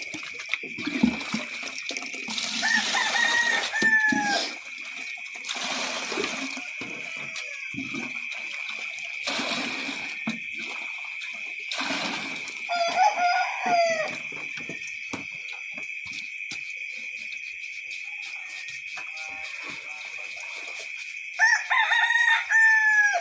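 Roosters crow loudly several times over a steady high-pitched tone, with scattered clucking and rustling between the calls, on a farm in the Philippines.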